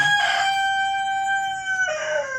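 A rooster crows loudly and close, one long drawn-out cock-a-doodle-doo with a rising final note.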